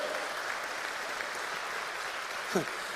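A church congregation keeps up a constant wash of applause during a sermon, even and unbroken, with a brief voice rising above it near the end.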